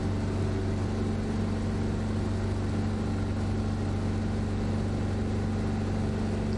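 A Cessna 337 twin-engine aircraft in Microsoft Flight Simulator drones steadily in flight, a loud, constant low engine hum with a fixed tonal buzz and no breaks or talk over it.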